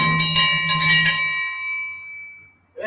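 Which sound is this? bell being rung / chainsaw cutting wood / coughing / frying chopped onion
bell being rung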